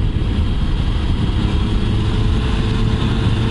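A 2019 Yamaha MT-09 motorcycle engine runs with a steady, dense low rumble during a ride, continuous and fairly loud with no voices.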